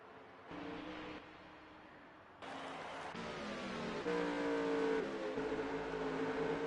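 Race cars in a racing video game roar past with engines revving and shifting through gears, the pitch climbing and the sound growing louder toward the end, alone with no voices.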